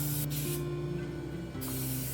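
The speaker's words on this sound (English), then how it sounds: "Hook it up to citrus cleaner to clean the line." A spray glue line being flushed with citrus cleaner gives off a loud, steady pressurized hiss that cuts out briefly in the middle and then resumes, close by.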